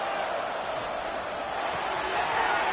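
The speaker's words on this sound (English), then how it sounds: "Listen to the crowd energy here in the early going" Steady broadband roar of a stadium crowd in an American football video game, continuous and fairly loud, swelling slightly toward the end, with a commentator's voice faintly under it.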